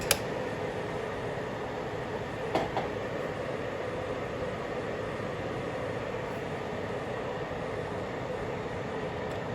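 A Black and Decker space heater runs on high heat, its fan giving a steady, even whirring hum that continues unchanged throughout, with a couple of faint clicks.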